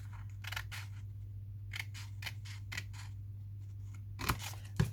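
Scissors cut through a manila file folder close up, several crisp snipping bursts in an uneven rhythm over a faint steady electrical hum, ending in a louder final cut and clunk.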